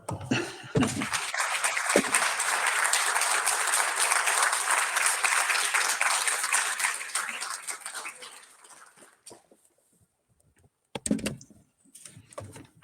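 Audience at a city-planning talk gives a sustained round of applause, loud and steady for several seconds before tapering off into near silence, followed by a few scattered claps.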